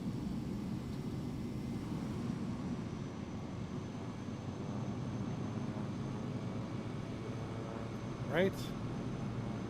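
A jet airliner taxis in Microsoft Flight Simulator 2024, its engines a steady low rumble and whine throughout, with a brief short sound near the end and a voice speaking briefly.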